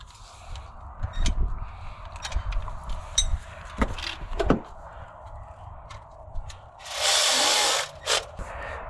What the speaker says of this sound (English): And I'm gonna get a hand ratchet for that. That one's tight.